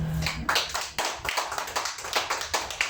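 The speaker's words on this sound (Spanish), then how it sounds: "Dale un aplauso a tu Dios." A small church congregation claps in uneven bursts, the hand claps close and somewhat irregular in rhythm, with no talking over them.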